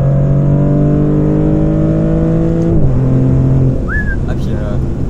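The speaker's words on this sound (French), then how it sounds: "le bruit du moteur à l'intérieur est très agréable." Cabin interior of a Maserati GranTurismo Modena V6, loud steady engine tone holding a constant pitch, then a gear change drops the note partway through, with a brief chirp near the end.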